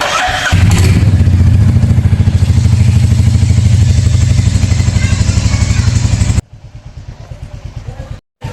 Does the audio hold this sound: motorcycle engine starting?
yes